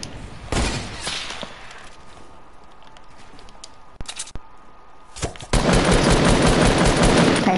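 Light machine gun fire in a shooter video game, loud sustained bursts of rapid automatic fire, with a couple of short single shots in between, then a long dense burst at the end.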